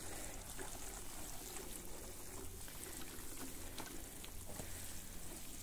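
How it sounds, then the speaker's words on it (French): Water pouring and trickling onto soil while freshly planted potatoes are watered in a vegetable garden at the end of March, a steady continuous splashing stream with no talk. "Donc du coup maintenant je vais bien arroser."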